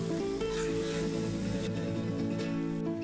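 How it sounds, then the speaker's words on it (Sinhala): Beef tripe curry with tamarind juice fries in a pan, giving a steady dense sizzle with faint stirring scrapes and a constant low hum, close and continuous. "දැන් ඔයාලා මේ ටිකත් ටිකක් වෙලා බැද ගන්න ඕනේ"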